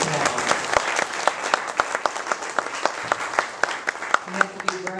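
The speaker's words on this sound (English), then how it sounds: "Let's give all of our candidates a round of applause." Audience at a political forum applauds the candidates with steady, dense clapping filling the hall, moderately close, with some voices underneath.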